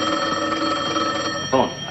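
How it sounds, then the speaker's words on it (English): A telephone bell rings steadily in an old television sitcom scene, a sustained metallic trill heard loud and clear, with a voice breaking in near the end. "Phone. I better answer that."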